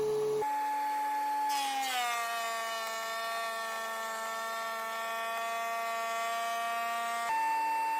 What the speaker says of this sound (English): I ran all 4 panels through the thicknesser to create a nice smooth